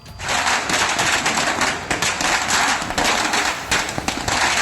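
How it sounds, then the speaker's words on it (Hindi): A string of firecrackers bursts in celebration in Badlapur, Maharashtra, a loud, rapid, continuous crackle of pops that runs throughout. "एनकाउंटर के बाद फूटे पटाखे।"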